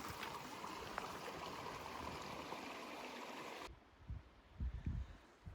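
Creek water rushes steadily in a broad, even wash, then cuts to a quieter stretch of trickling flow with some low thumps and rustling.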